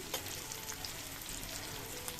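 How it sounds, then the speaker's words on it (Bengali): Slices of bitter gourd (karela) fry in oil, a dense, steady crackling sizzle like light rain, even and close throughout with no voices. "দেখুন আমার করলা ভাজাগুলো হচ্ছে কি সুন্দর।"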